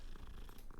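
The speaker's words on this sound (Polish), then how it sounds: "Można pogłaskać kota?" A cat purring steadily while being petted in the video game Hogwarts Legacy, a soft continuous low rumble heard up close with no talk over it.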